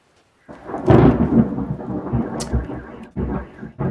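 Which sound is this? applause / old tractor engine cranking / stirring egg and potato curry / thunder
thunder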